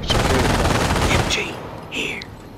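Rapid small arms and machine gun fire rattles nonstop in the World War II Normandy invasion of the Company of Heroes video game, then cuts off and trails into a couple of distant bursts.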